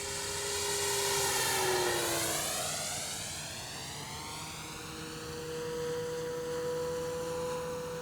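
An RC model airplane at full throttle, a loud steady propeller whine that rises and falls in pitch with Doppler shifts as it passes overhead.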